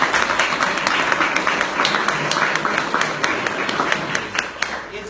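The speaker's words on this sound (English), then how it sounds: "give yourselves a round of applause for coming out" A crowd at a mayoral inauguration gives a sustained round of applause, many hands clapping densely with individual claps standing out, with voices mixed in.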